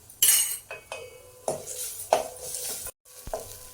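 Oil tempering with asafoetida, turmeric and crushed green chili paste sizzles in a pan for Maharashtrian dahi kadhi, while a spoon scrapes and clinks in short, repeated stirring strokes, close up, with one brief pause.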